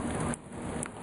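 Steady rain hisses across a surface in a short burst, a dense even wash with no voices.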